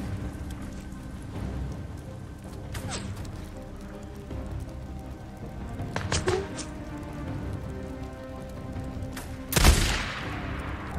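Enemies firing guns in Days Gone, scattered sharp shots at a middle distance over steady outdoor ambience that resembles rain, ending in one louder, closer blast.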